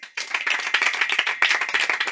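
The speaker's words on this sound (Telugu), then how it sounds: "పరీక్షలు రాయిపోయే పిల్లలందరూ ఒకసారి గట్టిగా చప్పట్లు కొట్టండి" Children in a prayer gathering clap loudly together, a dense burst of many hands starting abruptly after a brief pause and continuing steadily, close and bright.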